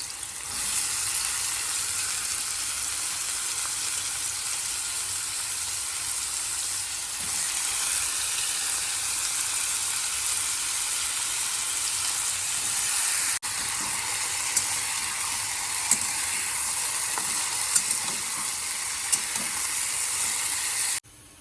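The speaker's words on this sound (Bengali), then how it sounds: "আলু ভাজা তো হয়ে যাচ্ছে" Chopped potatoes frying in oil in a pan, a constant close hiss-like sizzle lasting throughout, with occasional light taps and scrapes of stirring toward the end; no talking.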